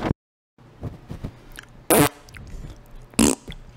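A voice imitates a fart as a joke, making short, loud blurting bursts, two strong ones standing out among quieter mouth noises.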